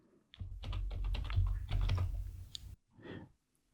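A computer keyboard clatters in a quick burst of keystrokes as a short domain name is typed, followed by a brief pause, a few more taps and a final click, close and crisp.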